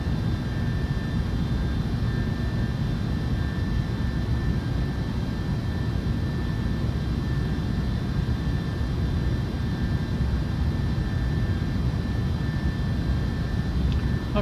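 Steady airplane engine drone while approaching the runway in Microsoft Flight Simulator 2024, gear down and flaps extended, a continuous even rumble with a faint high whine held throughout and no talk.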